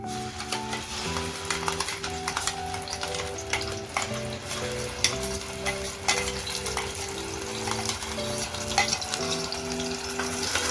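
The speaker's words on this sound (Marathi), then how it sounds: "2 पळ्या तेल टाकलेलं आहे. आता हे बघा, कांदा लसूण आणि टोमॅटोची पेस्ट बनवून घेतलेली आहे." Onion, garlic and tomato paste frying in oil in a pan, a steady close sizzle with stirring scrapes and a faint tonal hum underneath throughout, no voices.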